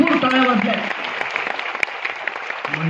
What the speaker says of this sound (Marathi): भरपूर टाळ्या वाजल्या.